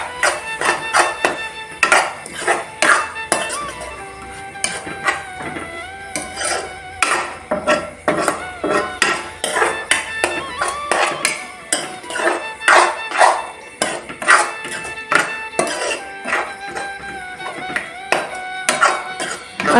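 Spices and chickpeas being stirred in a cooking pot, a steady run of loud clinks and scrapes of a spoon against the pot in irregular rapid strokes, close up, with no talking over it.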